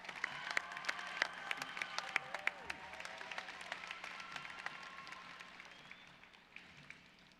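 Audience applause at a 2023 high school graduation ceremony after a student's speech, a steady wash of many hands clapping with sharp individual claps on top, gradually thinning and fading over the seconds.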